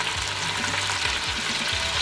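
Tomatoes and chillies fry in hot oil with golden onions, giving a steady, close, continuous sizzle with soft stirring scrapes and no voices.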